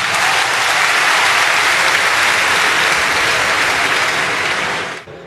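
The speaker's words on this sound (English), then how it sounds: "Clap for her." A church congregation claps loudly and continuously, a thick, close roar of many hands that holds steady for about five seconds before cutting off abruptly.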